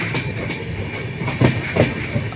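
Inside a moving suburban train nearing Dum Dum station, a steady rumbling ride with rhythmic clickety-clack wheel beats over rail joints, a few sharper knocks standing out, heard up close.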